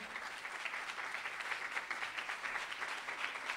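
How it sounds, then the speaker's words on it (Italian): Audience applause at a school gala, a steady, faint wash of many people clapping that continues evenly throughout with no voices over it. "Ok, un applausone."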